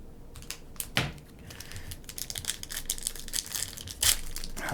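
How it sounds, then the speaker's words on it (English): Plastic trading card game packs are torn open up close, with crisp crinkling, crackling and tearing in irregular bursts and a couple of sharper rips. "These packs are really not easy to open. They're like plastic."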